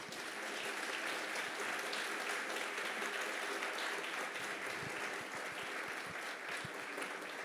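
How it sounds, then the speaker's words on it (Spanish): A church congregation claps loudly for the Lord after a sermon, a steady dense roar of hands that holds evenly throughout with a few sharper individual claps standing out near the end. "Dale un fuerte aplauso al Señor"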